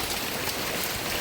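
First monsoon rain falling in a Konkan village, a dense, steady broadband hiss of drops on surfaces with no pauses, close and fairly loud.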